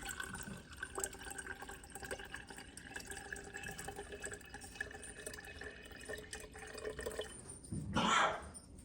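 Water is poured into a jar holding sourdough starter, a quiet, steady trickle that swells into a brief, louder gush and splash near the end.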